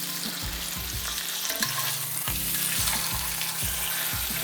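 A smashed garlic clove sizzles and crackles steadily in a hot pan, a dense close frying hiss with faint rhythmic stirring or scraping beneath, and no talking.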